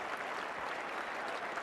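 A cricket crowd at the Oval during the 1985 Ashes Test applauds steadily after a Gower cover drive, producing a dense, even wash of clapping that is heard from a distance and continues throughout, with no talk over it.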